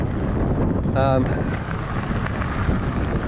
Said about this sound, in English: unfortunately the wind's quite strong today